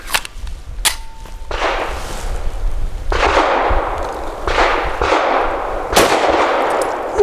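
An FN 509 pistol fires 142 grain ammunition outdoors, with about six sharp, loud shots at an irregular pace, each followed by a ringing echo.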